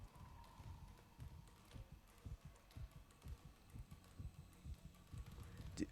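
Isaac's heartbeat in Dead Space thumps faintly in a quick, steady low pulse over a quiet hum, continuing throughout with no speech.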